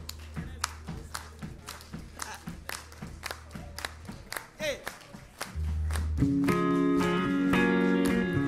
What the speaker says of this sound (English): Let's get a stomp clap going now.